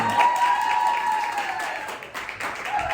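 Audience clapping at a Father's Day variety show, a dense steady round of applause from a crowded room, filling the whole moment with a few voices mixed in.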